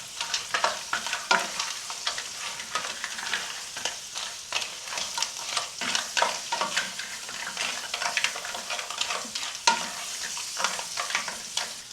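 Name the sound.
stirring food sautéing in a pan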